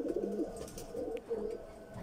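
A quiet, low cooing from golden pigeons on a rooftop comes in two soft bursts separated by a brief pause, with a faint chirp and no speech.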